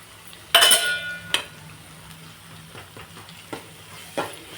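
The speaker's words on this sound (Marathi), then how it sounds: "मस्त सोडे आणि मसाला फ्राय होतोय." Dried prawns and homemade black masala frying in oil as they are stirred, with sharp metal scrapes and clinks of a spoon against the pot over a faint sizzle.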